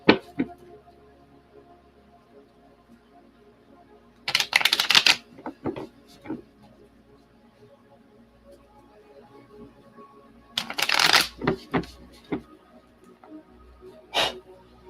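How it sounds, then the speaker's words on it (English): Tarot cards being shuffled in two quick riffling bursts a few seconds apart, with scattered card taps and handling clicks between, close and otherwise quiet. "Let's shuffle these."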